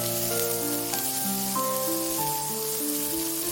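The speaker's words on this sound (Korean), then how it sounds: "팬에 식용유, 들기름, 다진 마늘을 넣고 중불에서 마늘을 볶고 당근과 양파를 넣고 볶아줍니다" Minced garlic, carrots and onions stir-fry in cooking oil and perilla oil in a pan over medium heat, giving a steady, close hiss of sizzling under a layer of sustained background music, with no speech.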